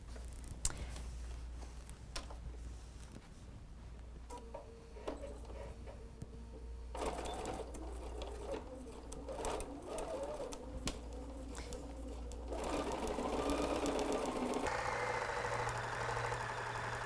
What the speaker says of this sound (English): Just a straight stitch, reinforcing the beginning and the end.